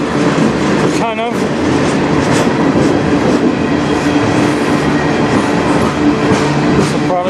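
A long CN freight train passes close by on the Strathroy Sub in Sarnia, Ontario, its loud steady rumble carrying rhythmic clickety-clack and a brief high wheel squeal near the start.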